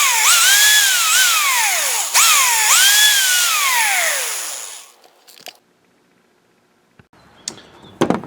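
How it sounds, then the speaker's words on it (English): A drill spins a dryer drum support roller part against 600 grit wet-dry sandpaper, a loud whining grind with rising and falling pitch sweeps. It runs for about five seconds, then stops, leaving brief clicks and handling noises. "I'm going to smooth this out with 600 wet dry sandpaper."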